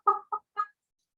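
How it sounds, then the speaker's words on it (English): Hens cluck in three short, close bursts, the first longest, then a quick second and a third, with silence around them. "The hens are busy."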